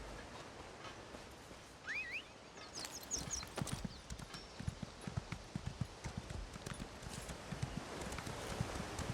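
Horse hooves clip-clop at a steady walking pace in The Elder Scrolls Online, with a brief whinny near the start and a soft ambient bed behind the evenly spaced hoof hits.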